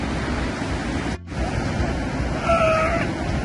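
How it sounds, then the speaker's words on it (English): Big ocean waves surge and break at La Jolla Cove, filling the air with a steady, loud broadband wash that swells slightly near the end, with faint higher calls briefly rising over the surf. "And they're not even bothered by those big waves coming in."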